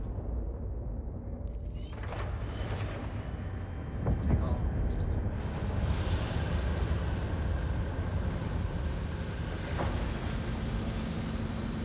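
Spaceship engines in the video game Star Citizen, on an RSI Apollo Medivac, spool up into a steady, loud roaring hum with a thump and mechanical clunks partway through, running continuously.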